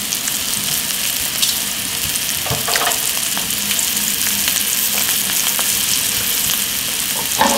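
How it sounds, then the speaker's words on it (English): Scallops pan-searing with a loud, continuous sizzle and crackle that holds steady throughout, with a few brief scraping touches partway through and no talking. "You just let them start to brown up."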